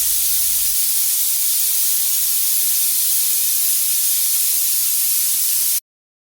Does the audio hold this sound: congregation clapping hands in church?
no